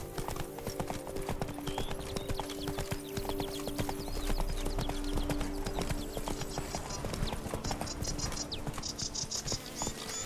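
Horse hooves clip-clop at a steady galloping rhythm throughout, close and continuous, in the video game The Witcher 3 Wild Hunt, over a bed of insect and cricket chirps in an outdoor game setting.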